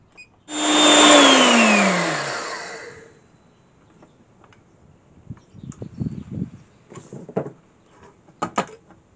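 Electric grinder milling seven slices of gingerbread for fishing groundbait, a loud whirring motor that spins up, holds for about two seconds, then winds down with falling pitch, followed by softer handling clatter.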